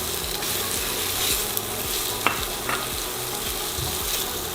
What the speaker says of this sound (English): And sauté until onion is softened and translucent.